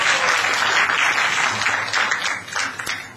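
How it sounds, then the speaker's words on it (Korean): Sustained applause from a lecture audience at a speaker festival, a dense steady wash of many hands clapping that fills the room, then thins slightly toward the end. "힘내서 강의하시라고 큰 박수 부탁드립니다"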